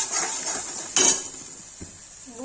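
Masala with cinnamon paste and salt being roasted in a pan, heard as clattering metal utensil scrapes and knocks against the pan with one sharper clank, close and alone.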